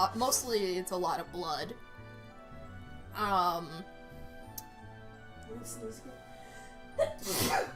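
A sharp sneeze bursts out during a casual streamed conversation about games, loud and close, with several people talking and laughing around it and a second sneeze-like burst near the end.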